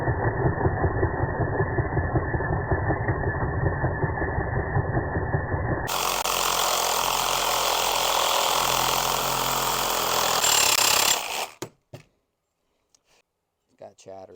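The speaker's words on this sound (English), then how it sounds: "So we're going to cut this bracket off and smoothing all this down" Power tool grinding and cutting through a metal motor bracket on a Razor MX650 electric dirt bike, a harsh steady whine that then shifts into a brighter, rougher cut before stopping abruptly, followed by a few small clunks.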